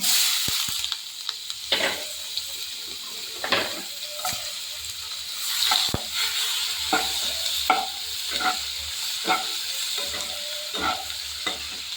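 Chopped onion, a dried red chilli, bay leaves and whole cardamom frying in oil for a prawn biryani, heard as a loud, continuous close sizzle with frequent scraping stirs and clinks of a spatula against the pan, no voices.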